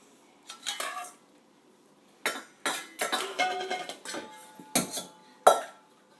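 A child stirring a spoon in a toy pot: scattered clinks and scrapes of utensil against cookware, coming in short bursts with quiet gaps between them, close by and moderately loud, with no talking.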